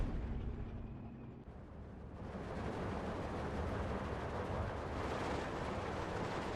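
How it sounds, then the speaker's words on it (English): Artillery shelling Soviet Avto vehicles in Steel Division 2, heard as a continuous roar of blasts and rumbling that swells after a quieter start and stays thick and heavy throughout, with no voices. "These poor Avtos are just getting wrecked by artillery."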